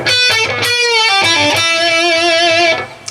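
An overdriven electric guitar plays a short melodic riff with bends and sustained notes, loud and close, ending abruptly.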